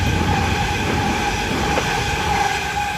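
Train passing a station platform at Engadine: a loud, continuous rumble of wheels and traction noise with steady tonal whine, close by and unbroken for the whole stretch, no talk.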